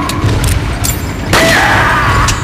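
Gunshots ring out in Resident Evil 4 as enemies are shot down, several loud sharp reports in quick succession followed by a ringing, crashing tail.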